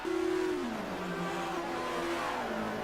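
A Rover and a Sierra touring car race down the long straight at Salzburgring in a video game, their engines droning loud and steady under high revs, with pitch shifting as gears change.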